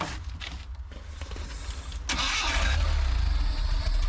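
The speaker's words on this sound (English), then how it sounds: "looks like we'll have to start it with a screwdriver instead of a key. And there we go. It started up." An abandoned car in a video game cranks and its engine catches at about two seconds, then runs loudly and steadily with broadband roar, no talk over it.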